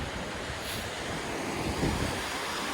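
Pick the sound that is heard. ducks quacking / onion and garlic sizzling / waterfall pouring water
waterfall pouring water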